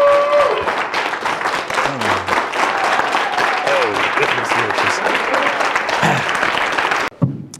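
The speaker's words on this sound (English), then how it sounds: "Thank you very much for that much appreciated applause." Audience applause welcoming Dr. Anderson to the stage at a speaking event: a loud, sustained wash of clapping throughout, with voices and cheers rising over it, before it breaks off abruptly at the end.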